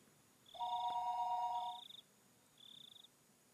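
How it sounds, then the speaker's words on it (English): A telephone in the visual novel Higurashi When They Cry rings with a bright electronic trill, one long double-toned burst followed by a shorter ring after a pause, clear against a quiet background. "the phone began to ring again"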